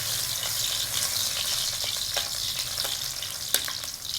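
Garlic sizzles in hot oil in a pan for a Shan-style mushroom stir-fry, a steady close frying hiss scattered with small pops and crackles, with no talking.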